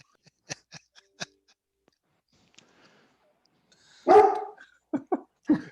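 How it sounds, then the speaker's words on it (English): A dog barks several times up close, a cluster of sharp barks toward the end after a few faint yips and sounds earlier, with no talk over it. "my dog barks in the background"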